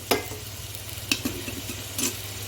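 Onion paste frying in oil in a pan, a steady close sizzle broken by a few sharp stirring scrapes at irregular intervals, with no talk.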